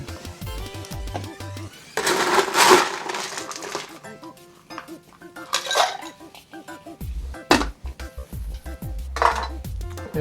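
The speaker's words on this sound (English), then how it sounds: "So we're gonna add some ice to here." Ice clatters into a keto Planter's Punch cocktail with sharp clinks and rattles in several bursts, mixed with glassware knocks and a little talking.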